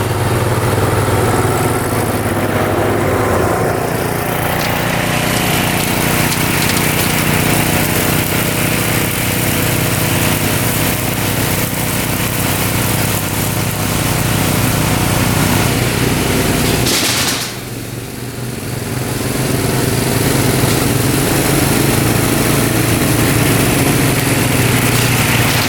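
A lawn mower cuts a trail path through overgrown growth, its engine droning steadily at close range with a brief dip in load partway through before resuming, with no talking.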